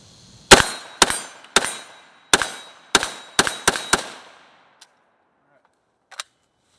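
Galil ACE rifle in 7.62x39 firing eight sharp shots at a steel target, uneven spacing with two quick doubles, each crack ringing off metal, then two faint isolated clicks after a pause.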